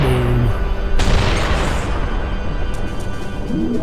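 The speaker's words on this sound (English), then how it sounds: "With Herbert's Panzerfaust, depending on his shooting here, might be able to take out this guy right here for me" A Panzerfaust shot bursts into a loud, booming explosion in the WWII strategy game Operation Darkness: one sharp blast followed by a dense, rumbling roar that sustains without talk.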